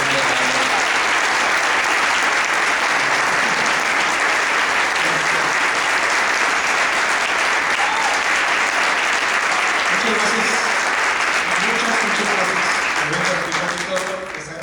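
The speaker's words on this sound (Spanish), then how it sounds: "vamos a darle muy fuerte aplauso para el doctor Francisco Ulloa" A seated audience gives loud, sustained applause to welcome a doctor onto the stage for a health talk on liver detox, the clapping steady throughout with some voices mixed in beneath it.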